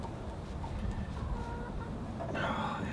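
A rooster clucks faintly in the background outdoors, with a brief higher call near the end rising over steady low noise.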